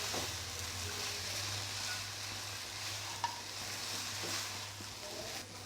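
Mashed potato mixture with salt and chili stirred in a pan for paratha filling, a soft continuous sizzle with occasional scraping under a steady low hum, fairly quiet.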